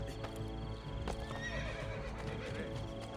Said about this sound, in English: Horse is stuck.